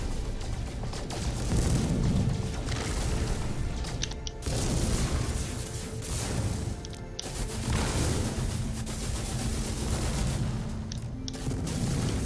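Weapons fire and explosions from the space game No Man's Sky come as a dense, continuous barrage of booms and blasts. Heavy thuds and crashes keep rising and falling, with a few abrupt cuts between surges, and no speech.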